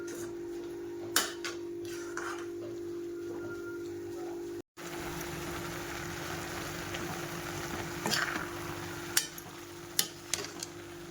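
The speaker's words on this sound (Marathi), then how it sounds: "हे सगळं हलवून हलवून घट्ट करते गाजराचा हलवा" A spoon stirs carrot halwa (gajar halwa) in a pan on the stove, soft repeated scraping over a low steady hum, with a few sharper clicks and knocks near the end.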